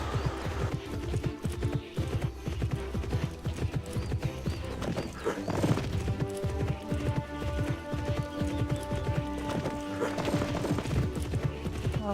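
Horse hooves clip-clop steadily over music in an Alexandra Ledermann horse-riding video game, with a brief whinny partway through and no talking.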